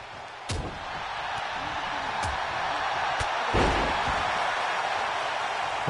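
A wrestler being slammed down in a BWE Warpath match, heard as a few sharp thuds over a steady, noisy broadcast bed, with no clear voices in the moment.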